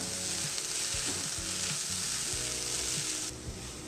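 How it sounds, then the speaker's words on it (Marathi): Paneer sandwich stuffing with coriander and fresh mint is stirred in a hot pan for a Mumbai street-style sandwich, giving a steady close sizzle broken by repeated scraping stirs. "सोबतच थोडासा फ्रेश पुदिना एकदा छान मिक्स करून घेऊया"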